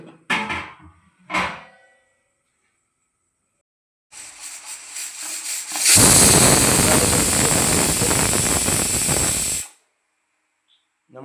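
A loud, steady hiss of escaping steam bursts from a pressure cooker on a gas stove for several seconds after a few soft clanks, then cuts off abruptly.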